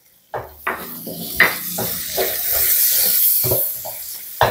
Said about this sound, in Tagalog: Sangkutsahin po natin ng ilang segundo para po lumabas yung aroma